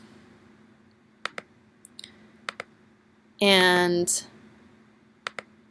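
Sharp, isolated computer mouse clicks spaced a second or so apart while a polygon lasso selection is drawn, close and distinct, with a brief spoken word in the middle.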